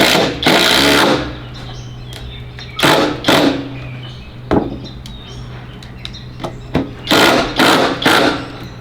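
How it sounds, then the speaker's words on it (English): Power drill pre-drilling and driving screws into wood while building a firewood rack and patio chair, loud whirring bursts of one to two seconds each, separated by short pauses and clunks, close and without talk. "all this pre-drilling and stuff bounces everything around"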